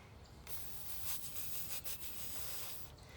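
A voice makes a soft, steady hissing whisper imitating a lawn sprinkler, a continuous airy spray sound with a few brief dips.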